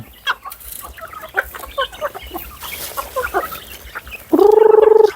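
Free-range domestic chickens let out of their coop cluck and chatter in scattered bursts nearby. A loud, sustained tonal call rises near the end.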